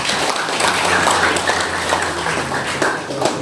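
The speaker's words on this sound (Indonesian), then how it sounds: "Tepuk tangan." Audience applause at a declaration event in Surabaya, East Java, a steady wash of clapping from a crowd, loud and continuous throughout.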